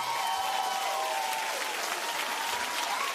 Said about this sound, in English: Keep clapping for that man